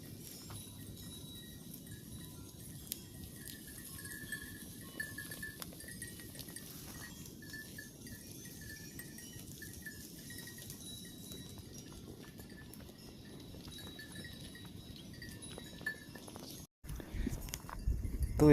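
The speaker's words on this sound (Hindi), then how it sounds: "फ़िलहाल बकरियाँ अपनी पहुंच गई है, ये देखो आ रही सामने से" Goat herd arriving on a hillside path with cowbells, faint clanks and soft hoof steps at a distance over a quiet outdoor background, with a louder rustle near the end.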